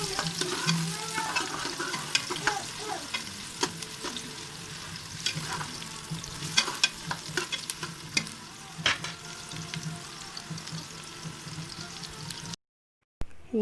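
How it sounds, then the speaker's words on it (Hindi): Onions frying in a pan, a steady close sizzle with crackling pops and light stirring scrapes throughout, ending in a brief cut of silence. "यहाँ प्याज हमारी फ्राई हो रही है"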